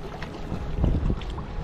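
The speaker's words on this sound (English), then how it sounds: "did not see that boat right next to me." A boat passes close by a sit-in kayak on Eagle Mountain Lake, its low rumbling wash and water noise swelling briefly mid-clip over light wind.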